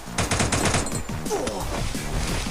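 Rapid automatic gunfire from the battle royale shooter Free Fire, a 4v4 team match, rattling in dense bursts throughout with a voice briefly talking over it.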